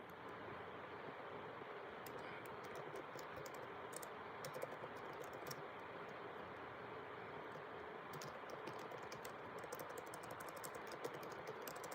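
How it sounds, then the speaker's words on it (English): Fingers tap out an email on a computer keyboard in quick, uneven bursts of close key clicks with short pauses between them, over a steady low room hiss. "I'm gonna write her an email"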